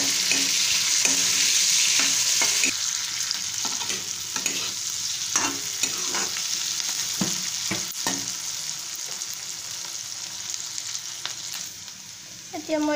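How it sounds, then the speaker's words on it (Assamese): Onions and green chilies fry in hot oil in a wok with a continuous close sizzle, broken by repeated scraping knocks of a spatula stirring the pan; no one speaks. "আমি অলপ ভাজি ল'ম অলপ দেৰি।"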